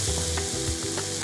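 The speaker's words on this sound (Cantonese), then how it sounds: "落蒜粒同乾葱炒香，然後再加入指天椒同紅尖椒絲" Garlic, shallots and bird's-eye and red chillies stir-fry in oil in a pan, a loud continuous sizzle with faint stirring scrapes, brief and steady with no voices.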